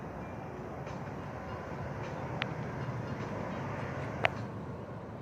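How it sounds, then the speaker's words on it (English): CSX coal freight train passing by outdoors, a steady rumbling roll of rail cars with occasional faint metallic squeals, moderately distant and continuous, with no talk over it. "I think this is a coal train."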